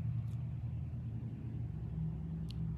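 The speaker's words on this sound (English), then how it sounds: "Never seen this car before in my life." A car rumbles past nearby with a steady low engine drone and no talking.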